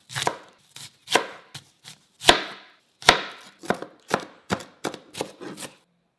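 Onions chopped with a knife on a board, a series of crisp, sharp chops in uneven rhythm, some isolated and some in quick runs, close and clear with no talking.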